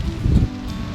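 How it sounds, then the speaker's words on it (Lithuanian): Strong wind buffeting outdoors near a hilltop castle in Germany, a low roaring rush with a gust swelling in the middle, no voices. "Vėjas stiprus."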